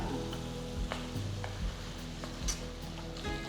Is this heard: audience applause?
no